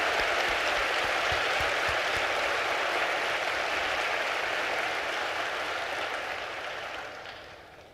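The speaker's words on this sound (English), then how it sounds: "give our service members a round of applause" A town hall audience applauds service members in the armed services: a dense, sustained roar of many hands clapping, loud and close, easing off and fading in the last second.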